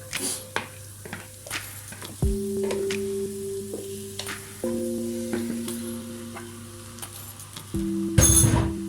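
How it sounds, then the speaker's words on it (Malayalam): Marinated chicken pieces tipped into hot oil for a Kerala chicken curry, setting off a loud, steady sizzle that swells as more meat lands, with a metal spoon clinking against the pan near the end and no talking. "ഇനി നമുക്ക് നേരത്തെ നമ്മൾ തയ്യാറാക്കി വെച്ചിരുന്ന മാരിനേറ്റ് ചെയ്ത് വെച്ചിരുന്ന ചിക്കൻ ഇട്ട് കൊടുക്കാം"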